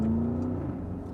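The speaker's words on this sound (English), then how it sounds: "I'm really impressed with that exhaust note" Porsche Cayenne GTS exhaust revving, a steady loud engine drone that holds one rising note briefly before settling into a sustained rumble, close and alone without talk.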